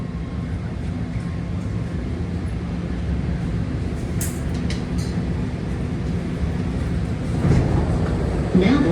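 A BART Green Line train pulling into Civic Center, UN Plaza station in San Francisco: a steady, loud rolling rumble with brief high squeals, swelling slightly as it slows toward the stop.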